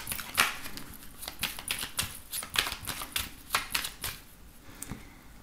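A 32-card deck shuffled by hand during a card reading, a run of quick papery riffles and taps in an uneven rhythm, close and moderately quiet, no talking.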